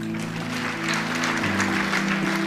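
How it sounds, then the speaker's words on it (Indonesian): Dense applause from a congregation during a church worship service fills the clip steadily, with a low sustained musical drone underneath throughout. "Tepuk tangan."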